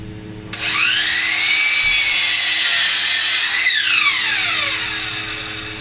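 A power saw with its sliding action locked whines up to speed and bites through wood in one steady cut while shaping a dovetail on a sushi board, then spins down, loud and close.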